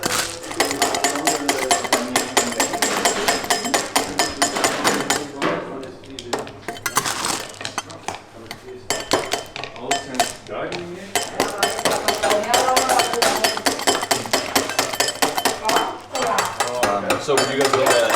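Rods of hard candy are chopped by hand in a candy kitchen, producing fast, continuous hard knocks and clinks of blades on a work surface that ring out loudly for the whole stretch, with brief lulls.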